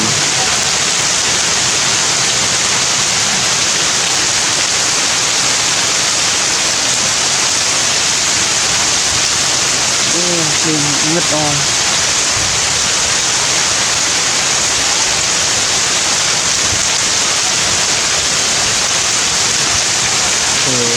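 Heavy rain pours in a loud, dense, unbroken wash for the whole stretch, with a brief voice surfacing midway.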